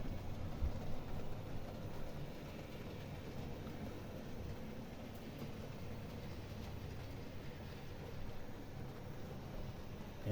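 A model US locomotive runs very quietly along its track, giving a faint, steady low rolling hum with soft clicks, continuous and distant-sounding.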